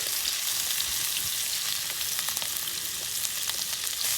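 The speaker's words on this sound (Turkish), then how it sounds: "etlerimizi atabiliriz artık" Meat sizzling hard in hot oil in a pan outdoors, a dense loud crackle that holds steady throughout with faint stirring, no voices.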